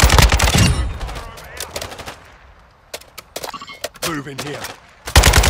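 Call of Duty Warzone DMZ gunfire rattles in rapid automatic bursts at the start and again later, mixed with scattered single shots, while a voice speaks over the firefight.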